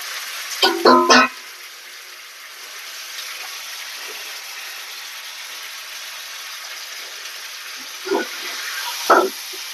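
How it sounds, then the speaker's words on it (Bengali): Rooster meat tipped into cooked-down spice masala for korma sizzles in a hot pan, a steady faint hiss broken by a few short clattering scrapes near the start and end, with no talking. "তারপর গোশগুলাকে আস্তে আস্তে ঢেলে দেওয়া হচ্ছে এই মশলার উপরে।"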